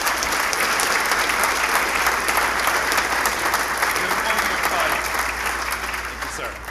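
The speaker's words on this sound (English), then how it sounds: "Please give a IIANC round of applause to Dr. Billy Williams." A conference audience applauds a keynote speaker's introduction at an insurance agents' association event, a dense, loud, sustained clapping that tapers slightly near the end.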